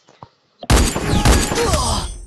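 Gunfire in a mobile shooter game: after a couple of faint taps, a loud, close burst of rapid shots rings out and keeps echoing to the end.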